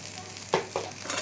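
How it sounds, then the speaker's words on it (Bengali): Onion and chili frying in mustard oil for a tempering, a steady low sizzle broken by two short stirring scrapes, close and fairly quiet with no talking. "আর পেঁয়াজ মরিচটা ভালো করে ভেজে নিচ্ছি ফোড়ন দেওয়ার জন্য"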